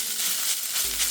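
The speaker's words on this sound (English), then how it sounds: "you're gonna just start to saute everything together" Vegan sloppy joe mixture sautéing in a pan over medium heat, a steady soft sizzle and crackle with a brief low thump near the end, no voices.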